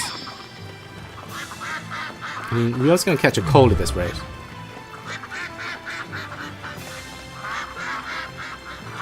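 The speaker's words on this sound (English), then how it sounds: "Do ducks squawk or do they go quack? I guess they quack at you." Ducks in the video game Shenmue III quack repeatedly in a rainy scene, several nasal calls near and moderately loud, with someone talking over them.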